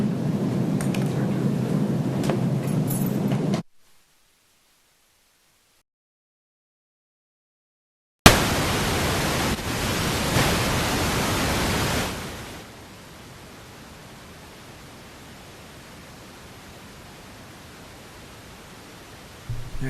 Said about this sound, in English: Will you turn the white noise on?